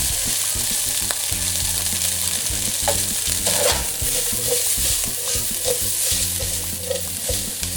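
Spam fries for fried rice, sizzling loudly and steadily in a hot oiled pan, with a spatula scraping and stirring through it now and then.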